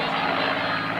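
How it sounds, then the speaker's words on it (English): A Hawker Hurricane fighter flies at an airshow, its piston engine producing a loud, steady droning roar that fills the whole brief moment without any break. "One of the only handful of airworthy Hurricanes still flying today."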